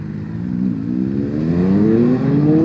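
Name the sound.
motorcycle passing by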